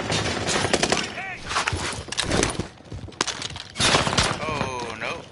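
Rapid gunfire from a shooter video game, with bursts of automatic fire and scattered shots crackling loudly and continuously beneath and between players talking.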